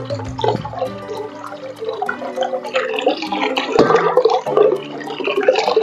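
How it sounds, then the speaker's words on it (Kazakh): Hot boiling water pours steadily into a bowl of flour for dough, a continuous splashing gurgle with some clinks, close by and fairly loud throughout. "Кішкене ыстық қайнаған суымнан да құйып жіберейін."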